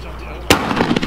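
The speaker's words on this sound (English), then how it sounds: "Fireworks." Firework going off on New Year's: one sudden sharp bang partway through, followed by a crackly tail and faint voices.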